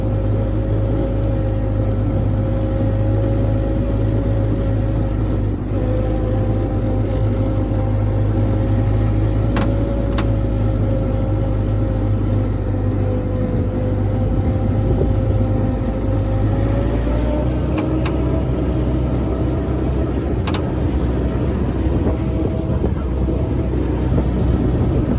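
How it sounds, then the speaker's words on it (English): A restored Jeep's engine runs steadily while driving, a continuous low hum with a sustained mid-pitched drone that shifts slightly as the engine speed changes, with a few faint clicks and knocks along the way. "driving the Jeep around"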